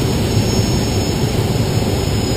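Airplane engine droning steadily in flight as heard from inside the cockpit, a loud constant low roar with a thin high tone over it.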